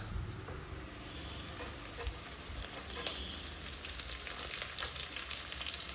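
Onion and green chillies frying in oil in a pan for mango chitranna, a soft continuous sizzle with faint occasional stirring taps, steady and fairly quiet with no talking.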